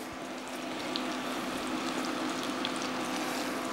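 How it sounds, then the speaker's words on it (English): Onions go into melted butter in a pot over high heat for classic French onion soup, giving a steady, loud, close sizzle and crackle that holds without a break. "So all the onions go in."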